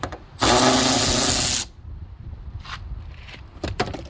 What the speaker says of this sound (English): Take the bolt out, and then you take the nut off.